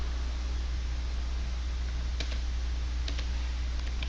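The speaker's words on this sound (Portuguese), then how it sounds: "Vou pressionar Enter." A few sharp computer keyboard keystrokes, including the Enter key, pressed while typing Linux terminal commands, heard as sparse separate clicks over a steady fan hum.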